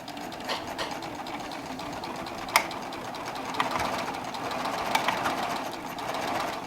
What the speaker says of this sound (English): I'm not touching any other settings on the serger, but I'm going to see just how much it will actually ruffle without the ruffling foot